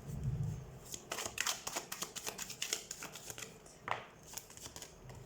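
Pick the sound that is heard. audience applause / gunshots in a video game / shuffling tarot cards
shuffling tarot cards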